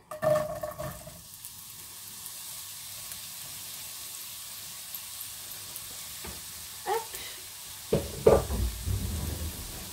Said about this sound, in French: Vous ajoutez vos oignons émincés.